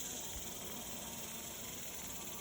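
Honeybees swarming inside a hay baler in Texas, heard as a steady, even insect hum blended with broad airy hiss, continuous and fairly faint throughout with no talking.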